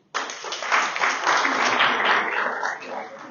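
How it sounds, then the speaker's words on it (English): An audience bursts into clapping that starts abruptly, stays full and lively, then tapers slightly toward the end. "I want you to clap for this guy"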